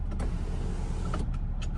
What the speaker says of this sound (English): If I push this up, the moonroof will open so that little air can get in.